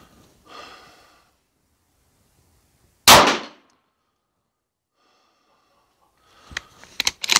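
A rifle fires a single shot with hand-loaded ammunition during a reloading accuracy test. It gives one sharp, loud crack that decays quickly after a quiet start, followed later by scattered light clicks and clatter.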